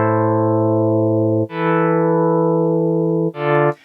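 A synth pad from the Harmless plugin in FL Studio, shaped with added attack, plays three sustained chords that each swell in smoothly rather than striking, with rich stacked harmonics and short gaps between chords, loud and alone with no talk.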